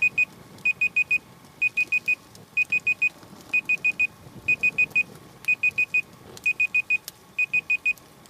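Outdoors beside a campfire set up for boiling water, a timer beeps in rapid bursts of three or four high electronic tones, repeating steadily for several seconds and clearly audible over the quiet background.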